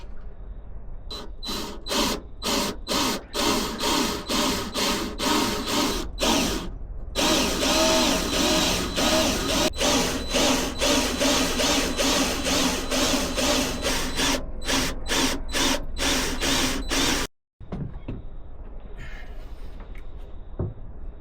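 A power drill whines close by through an aluminium boat deck in repeated bursts, with short pauses between, then a brief cutoff and quieter clattering afterward.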